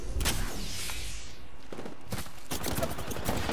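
Rapid gunfire bursts crackle in an Apex Legends match, a sweeping whoosh at the start followed by dense clusters of shots through the rest, moderately loud with no talk.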